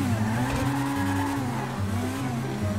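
Mitsubishi Lancer Evo 9 accelerating hard in modded GTA 5, with a loud, steady engine roar, shifting pitch and tire squeal, and no talk over it.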